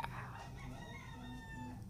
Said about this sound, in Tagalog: With kilaok ng mga manok sa background.